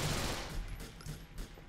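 A quick burst of rapid gunfire in Grand Theft Auto IV, several sharp shots in close succession, fairly faint and ending in a couple of separate pops.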